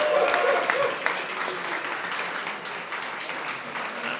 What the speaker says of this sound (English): And maybe a quick round of applause for Alberto.